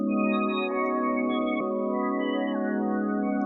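A sustained, warbly synth pad processed with halftime and a spectral gate gives a murky, underwater tone. It holds steady and fairly loud with faint pitch wobbles, and no one talks over it.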